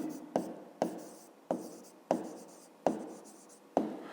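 A pen writes numbers by hand on paper in a fifth-grade maths exercise, making seven sharp taps or strokes at a steady rhythm, each followed by a brief scratch, close and quiet.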